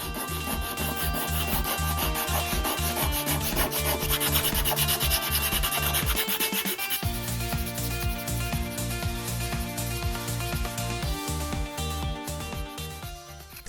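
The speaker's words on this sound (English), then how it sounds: "cut some strips of sandpaper and shoe shine these guys up" Wooden fishing lure bodies, a remake of a 1940s design, rubbed down with hand-held strips of sandpaper, giving a steady close scratchy rasp that runs continuously with a rhythmic back-and-forth texture, with no talk.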